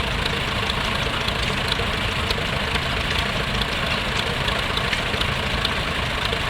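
A vintage tractor towing a trail mower at a steam rally gives a steady, loud, low engine chug with continuous knocking and rumble throughout, with no pauses.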